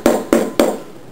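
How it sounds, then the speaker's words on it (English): A hammer gently taps a quarter-inch screw seated in the bushing of an AndyMark mecanum wheel roller, three short, evenly spaced close knocks with quick decay. "put it into the bushing, and gently tap onto the screw with a hammer"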